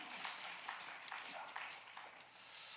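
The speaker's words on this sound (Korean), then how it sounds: "자, 박수하시겠습니다." A church congregation at a Wednesday prayer meeting claps together, a continuous, moderately distant patter of many hands with a few sharper individual claps standing out, sustained evenly throughout.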